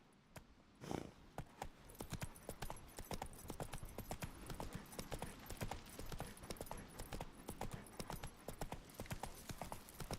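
Roach, Geralt's horse in the video game The Witcher 3, gallops with rapid, rhythmic clip-clop hoofbeats that run steadily and close, after a brief whoosh at the start.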